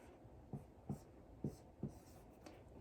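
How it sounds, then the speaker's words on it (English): A marker writes a number on a classroom place-value chart with four or five short, distinct squeaky strokes at a steady pace, close and soft against quiet room tone, with no talking. "So I'm going to go ahead and write that on my chart."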